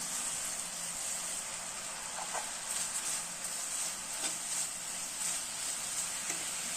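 Poha flakes stirred into a hot pan, a steady bright sizzling hiss with faint scraping and light clicks from stirring, continuous and fairly close with no talk.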